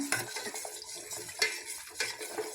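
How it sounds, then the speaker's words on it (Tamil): Rice flour batter for Kerala appam being stirred continuously in a pan to keep it smooth and lumpless, with soft scraping strokes and a few light clinks of the utensil against the metal, close and quiet. "இந்த மாதிரி கட்டி போடாமல் கிண்டிக்கிட்டே இருக்கணுங்க"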